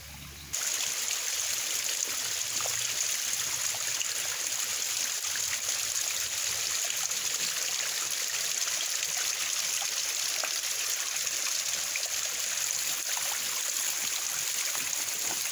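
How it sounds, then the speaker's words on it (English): A waterfall and stream on the Brickyard Trail in Lilydale Park, a steady bright rushing and splashing wash of flowing water, constant and moderately close, with no voices. "But there is a waterfall there."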